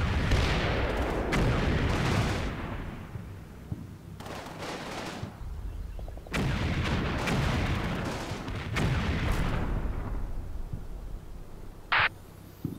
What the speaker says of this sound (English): I'm going to let these tanks continue shooting out this building.